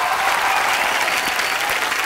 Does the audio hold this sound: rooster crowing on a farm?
no